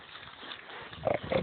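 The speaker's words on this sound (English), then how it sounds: "Hi, pig" Farm pigs give a few short, low grunts near the end of a brief, quiet stretch, close by with faint outdoor background and no talk.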